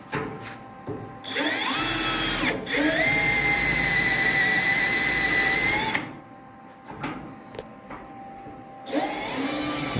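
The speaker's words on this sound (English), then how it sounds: "Let me drill these and I'll switch back over to the bit." A power drill whines through holes during a 1969 Ford Mustang rebuild, two sustained loud bursts of drilling with brief pauses, followed by a shorter start-up whir near the end.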